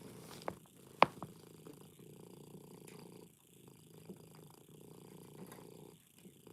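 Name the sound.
cat purring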